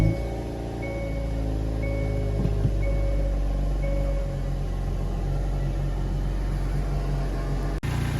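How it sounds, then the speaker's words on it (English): Hyundai Veloster N fitted with a Takeda cold air intake idles in neutral on a cold start, a steady low engine rumble with faint whining tones and an abrupt break near the end. "We're gonna go ahead and let the car idle for a few minutes."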